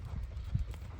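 Hooves of a loping horse thud in a soft, quick rhythm, close and muffled over a low background rumble, with no talking.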